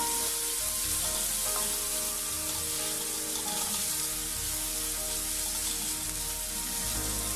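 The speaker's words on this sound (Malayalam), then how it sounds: "ഒന്നുകൂടി അങ്ങ് ഇളക്കി കൊടുക്കാം." Shallots fry in a pan for an onion chilli curry, a steady broadband sizzle throughout with faint stirring scrapes and no speech.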